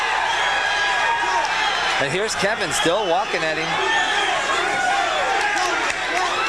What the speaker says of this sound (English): Crowd chanting him on here in the closing seconds.